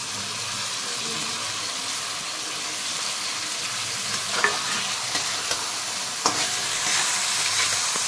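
Rice for mung dal pulao frying in a pan and being stirred, a steady close sizzle with scraping strokes and a few sharper clicks of the spoon against the pan, no voices.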